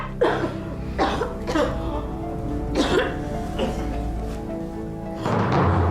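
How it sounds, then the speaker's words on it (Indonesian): A person coughing up blood: several sharp coughs repeat across the clip, close and fairly loud, with a rough, strained quality and a sustained low rumble underneath. "kenapa bisa batuk darah begini?"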